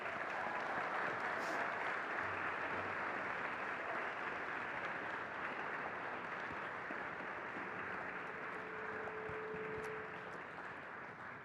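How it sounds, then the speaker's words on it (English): Sustained audience applause for the speakers at a Reno Family Foundation symposium on NASA's Artemis program, a steady dense wash of clapping from a room that holds at an even level and eases slightly near the end. "Let's give them a round of applause, y'all"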